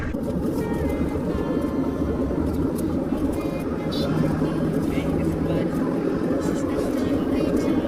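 A car cruising on a toll road makes a steady, even engine and road drone inside the cabin, continuous throughout, with a voice talking over it.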